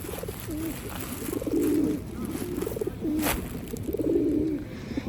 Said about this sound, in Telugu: ఈ పావురాలు చూడండి ఒకసారి